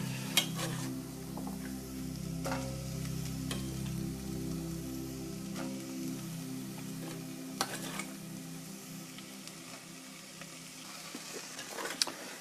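Soft onions and carrots sweating in a pan, a low steady sizzle with occasional faint clicks and stirring scrapes, quiet and continuous with no voices.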